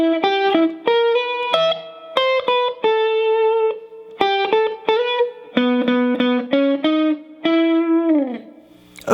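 An electric guitar plays a phrase from the Munsters theme, a run of clean, plucked single notes and short staccato stabs with slight effects, ending on a sliding note, close and alone.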